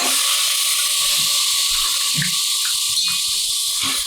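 Field beans are added to hot oil with a Malvani spice masala and give off a loud, continuous hiss and sizzle that holds steady throughout.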